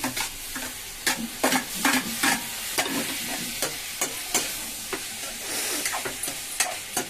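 Tomatoes and beans sizzle in an oiled pan while a spoon stirs them in repeated scraping strokes, a steady close frying hiss with sharp clatter bursts roughly every half second.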